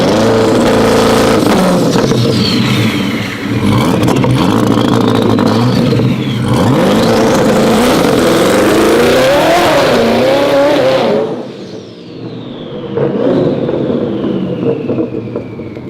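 A twin-turbo C8 Corvette with a rebuilt engine and clutch accelerates hard through several gear shifts, loud and close, with rising revs broken by crisp shift breaks, then drops away and pulls off again, tires briefly squealing.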